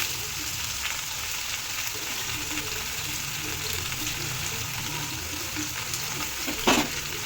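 Pumpkin, potato and green chilli pieces, with red amaranth stems, fry in a pan with a steady, close, broadband sizzle and a brief louder crackle or clatter near the end, with no voices.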